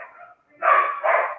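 A dog gives a few short barks and yips from a little distance outside on the street, a faint whine first, then two louder barks in quick succession.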